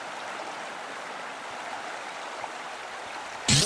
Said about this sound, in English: So as you can see, I found the river.